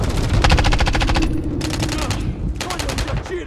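Loud, close automatic fire in Call of Duty: Modern Warfare 3, with rapid machine-gun bursts separated by short pauses over a rumbling battle background.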